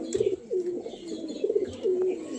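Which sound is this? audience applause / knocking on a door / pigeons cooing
pigeons cooing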